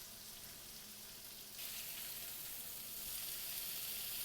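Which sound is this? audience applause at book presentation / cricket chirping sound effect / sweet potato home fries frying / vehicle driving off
sweet potato home fries frying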